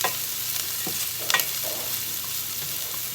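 Onions frying in a pan for an omelette, browning with a steady close sizzle and a few stirring scrapes and clicks, no voices.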